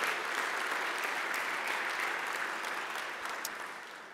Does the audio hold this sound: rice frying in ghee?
no